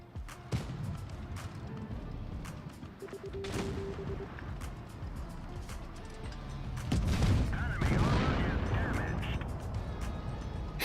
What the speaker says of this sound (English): He's shooting HE only at me.